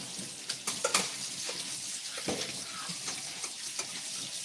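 Shrimp and snow peas stir-fry in hot oil, a steady bright sizzle with scattered pops and crackles, and a few louder spatters and stirring clinks rising out of the frying hiss.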